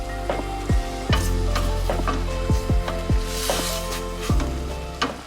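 Chopped mushrooms and garlic sizzling in a soup pot, with a spoon scraping and knocking against the metal in several sharp strokes over a steady close frying hiss.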